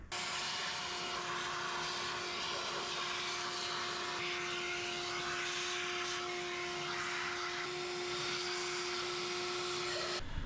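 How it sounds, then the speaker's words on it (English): A vacuum cleaner runs steadily and loudly throughout while cleaning debris and dust from the engine intake valley of a 1966 Ford Mustang, a constant whining motor drone with a steady hum beneath. "I'm gonna vacuum out any of the debris and dust I may have gotten in this intake valley"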